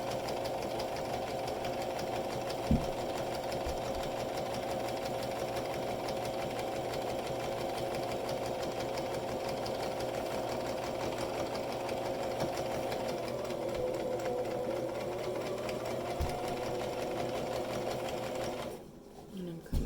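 A sewing machine stitches fabric in a long, steady run of fast mechanical whirring with a couple of faint knocks, then stops abruptly near the end.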